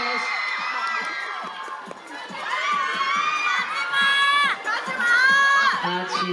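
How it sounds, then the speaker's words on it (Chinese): A crowd at the Yahoo Asia Buzz Awards 2018 ceremony in Hong Kong screams and cheers for Cha Eun-woo, with high excited shrieks swelling and fading over a continuous roar. "One more round of applause"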